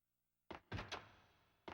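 A door thuds shut in the Max Payne 2 video game, blocking enemies from getting through: a sudden heavy thunk followed by two quick knocks, then another thud after a short pause, close and clear.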